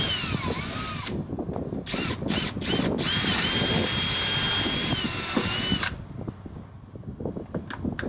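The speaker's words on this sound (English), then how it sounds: "just gotta drill a little bit farther down in there" A power drill whines loudly while drilling through metal on a boat winch mount, its pitch shifting as the bit bites, with short bursts and gaps before the motor cuts out and faint rattling follows.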